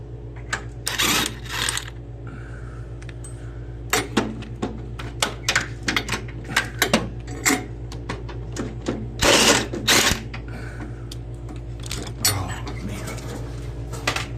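Bolts are worked loose with a ratchet or wrench on the engine block of a John Deere L130 lawn tractor, with repeated sharp metallic clicks and clanks in irregular bursts, close by, over a steady low hum.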